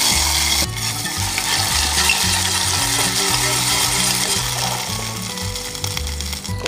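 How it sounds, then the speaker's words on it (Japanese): Onions sizzling and stirring in a hot pot with olive oil and garlic at a campsite, with rhythmic scraping and clattering of a utensil over a constant crackle of frying. "ここで玉ねぎをしんなりするまで炒めます"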